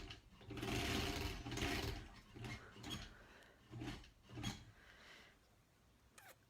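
A sewing machine stitches a quilt block in short bursts of whirring mechanical running, stopping and restarting several times, with light handling of fabric between runs and fading toward the end.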